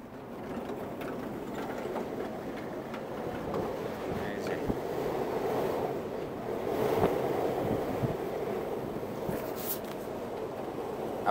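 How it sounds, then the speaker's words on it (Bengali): At sea on a stormy night, with wind and rain outside, the ocean roars as a continuous deep rumble with swelling surges and occasional sharp knocks, steady and enveloping. "সমুদ্রের যে গর্জন রাত্রেবেলা, সেটা আমি আপনাদেরকে একটু শোনাই।"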